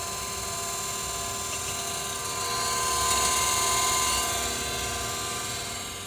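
A steady, loud mechanical whine and hum of a grinder's hydraulic power unit running, swelling slightly midway, with no talk.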